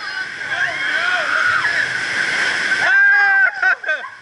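Water sloshes and splashes over a raft on the Congo River Rapids ride at Busch Gardens Tampa, a close, churning wash with sharp splashes near the end while riders talk and shriek.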